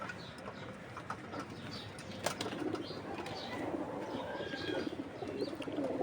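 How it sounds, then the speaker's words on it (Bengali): Pigeons in a loft give soft, low cooing under a constant rustling background, with an occasional light flutter or tap, fairly quiet and moderately close. "তারপরে এই যে এখানে কিছু কবুতর আছে।"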